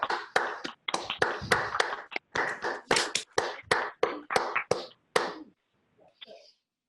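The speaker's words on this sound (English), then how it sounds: "may we give a round of applause to Will?" A round of applause at a mental health talk event, brisk bursts of hand clapping lasting several seconds, close and lively, tapering off to a few scattered claps at the end.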